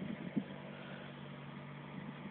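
A Mk2 Vauxhall Astra 1.4 petrol engine idles steadily on its automatic choke, with a low, even hum and slight rough pulsing, heard close up with no talking.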